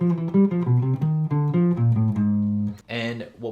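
A guitar plays a melodic jazz-style lick, clean single notes in a flowing phrase, close and alone, ending in a brief strummed chord.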